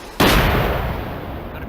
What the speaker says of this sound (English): Is alright, firing rocket.